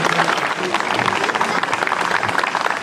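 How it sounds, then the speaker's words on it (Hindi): At a CRPF Day ceremony of the 148th battalion, an audience claps continuously, a thick crowd of hands close and loud, with faint voices mixed in. "तालियों की गड़गड़ाहट रुकनी नहीं चाहिए।"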